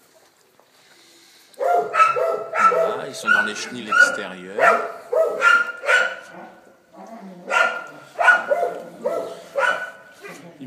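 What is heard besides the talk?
Malinois puppies barking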